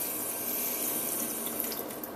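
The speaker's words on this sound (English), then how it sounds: "what I'm going to do is just turn the water on" Water runs steadily from a kitchen faucet, a continuous broadband hiss of flow with slight fluctuations, close and fairly loud, no voices.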